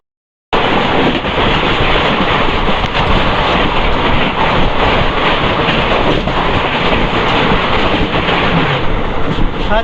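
An Indian Railways express on the Itwari to Rewa run, heard as a loud, steady roar of the train rolling along the tracks with constant rumble and wind noise from start to finish.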